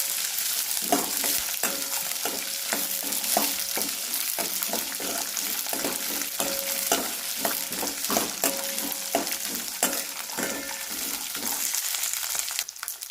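Peanuts and green chillies stirring and frying in a pan, a steady close sizzle broken by frequent scraping stirs of a spoon throughout, with no talking.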